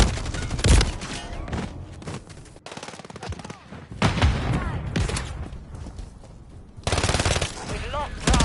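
Dense video game gunfire: bursts of automatic fire and scattered shots crackle through a tense objective-capture firefight, heavy and near, with loud volleys returning after a brief lull.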